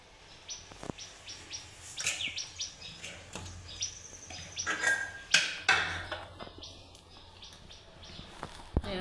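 A small bird chirps in quick, high bursts nearby in the early morning, with scattered knocks and faint background noise between calls.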